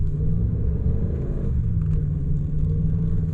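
A Ram pickup truck's engine rumbles and revs steadily while the truck slides with traction control switched off, a low continuous growl that holds close and loud throughout.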